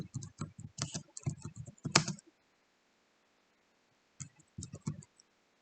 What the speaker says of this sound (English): So I'm going to want to type in has many holes.